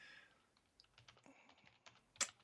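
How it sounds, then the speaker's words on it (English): Quiet typing on a computer keyboard, a scatter of soft key taps at an uneven pace, close and faint, ending with a sharper clack. "Mark's typing."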